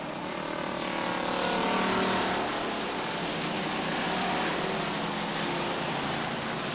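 Stock cars race at Beech Ridge Motor Speedway in 1991, a loud pack of engines droning and shifting pitch as the field sweeps past through the turns with no talk.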